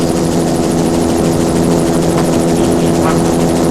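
A helicopter flying over a triathlon course at Bundoran during the 1985 All Ireland Triathlon Championships produces a loud, constant rotor and engine drone that dominates throughout without break.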